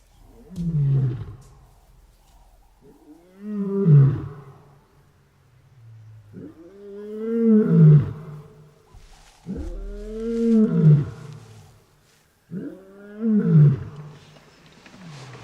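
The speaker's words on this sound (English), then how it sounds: "The power of that roar is just crazy. It sends shivers up and down your spine." A wild lion on the Gorongosa Park floodplain lets out a series of about five deep, powerful roars, each a swelling grunting call, loud and close with quiet gaps between.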